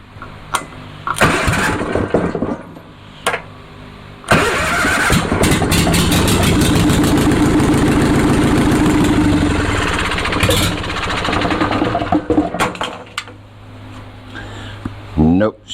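An Onan Performer 20 HP engine, meant to repower a John Deere 850 compact tractor, cranks several times and then catches into a loud, steady mid-pitched idle for several seconds before it cuts out, with people talking close by.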